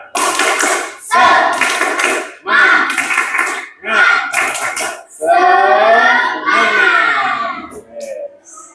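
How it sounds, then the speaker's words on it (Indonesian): A classroom of children performs a rhythmic spirit clap, bursts of clapping alternating with group chanting in a steady pattern, loud and close. "Yuk, tepuk semangat."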